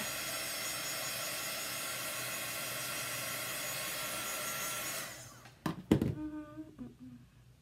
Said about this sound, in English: Just gonna dry it a little bit because I don't want my mat to get super hot.